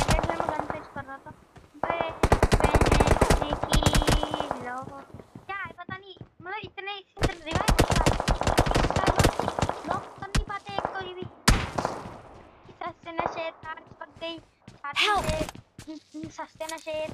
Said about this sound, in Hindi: मैं गन टेस्ट कर रहा था